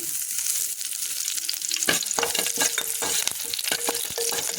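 Mustard seeds and urad dal splutter in hot oil for a snake gourd kootu, giving a steady sizzle with sharp, irregular pops crackling close by.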